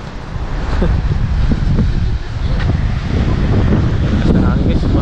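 Strong wind roars steadily into the microphone on the boat crossing to Mararison Island off Culasi, Antique, loud and continuous throughout with no clear speech.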